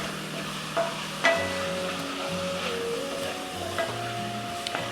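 Ground beef, already browned, sizzles steadily in a pan as taco seasoning is stirred through, with a few sharper scrapes and clinks of the utensil over a continuous frying hiss and a faint background hum.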